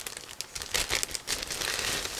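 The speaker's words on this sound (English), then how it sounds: "It's also a resealable plastic bag, so just give me a second. I'll open it right now." Crinkling plastic as a resealable bag holding Eduard 1/48 Spitfire Mk.I model kit sprues is pulled open, close and moderately loud, with uneven bursts of rustling over about two seconds.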